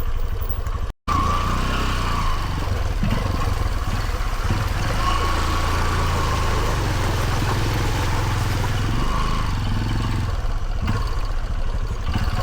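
A Honda CRF150L trail motorcycle idles on a muddy trail at Mt. Kinapuin, with a close, steady, loud engine putter throughout and one brief dropout near the start.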